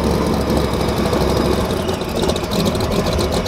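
Nissan GT-R engine idling nearby, a steady low rumble with a rough, knocking texture and constant broadband noise throughout, loud and without speech.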